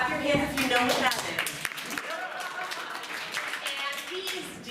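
An audience claps hands together in a steady patter that runs throughout, mixed under someone speaking over it.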